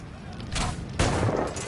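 Gunfire in the video game Assassin's Creed Rogue: a short burst of game gunshots and a louder blast near the end, set against a steady background of game ambience.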